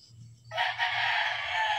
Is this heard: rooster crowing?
yes